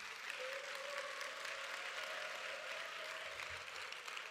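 A church congregation at a Korean Friday evening service applauds to welcome the pastor to the pulpit, a soft, even, steady clapping heard from a distance.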